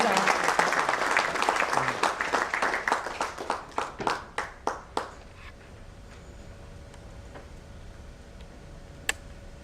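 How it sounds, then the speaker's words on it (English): An audience at a city function gives a huge round of applause, dense and loud at first, then thinning into a few scattered claps that fade to near silence. "Let's give him a huge round of applause."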